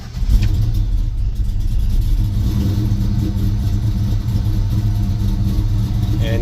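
A 1970 Chevy C10 pickup engine running, a steady low rumbling idle heard close up and loud throughout, with no talking.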